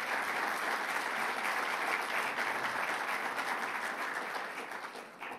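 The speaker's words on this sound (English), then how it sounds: "let's give a round of applause to Governor Phil Murphy" Steady crowd clapping greets a governor at a Climate Week announcement event, a full round of applause that carries on for several seconds and fades slightly at the end.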